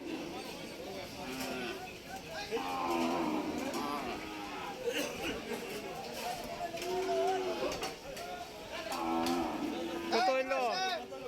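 Cattle lowing repeatedly at a busy cattle market in Hazratpur, several moos near and far rising over a constant murmur of crowd chatter and bargaining voices.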